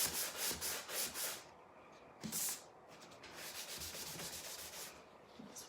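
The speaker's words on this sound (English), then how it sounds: "And then my super fine sandpaper." Super fine sandpaper rubbed over wood by hand: close, soft rhythmic strokes in quick bursts, then a pause and a steadier, quieter stretch of sanding.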